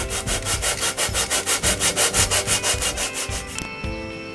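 A file scrapes the back side of a junk engine part in about fifteen quick, even back-and-forth strokes, close and loud, before stopping abruptly.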